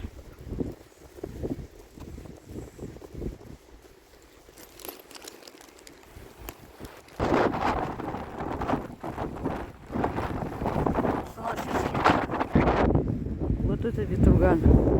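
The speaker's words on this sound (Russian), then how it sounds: "Вот это ветруган." Strong hurricane-force wind roars and buffets across the microphone in irregular gusts, growing louder and rougher in the second half, while a person talks quietly under it.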